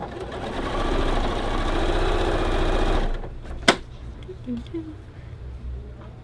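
Domestic sewing machine stitching a quilt block with real thread, running loud and steady for about three seconds, then stopping; a short sharp clack and faint handling sounds follow.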